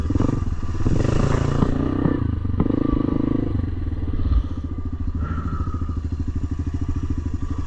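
A quad ATV engine churns through mud with a close, rough roar and rapid throbbing, and clatter and splashing scrapes ride over the engine.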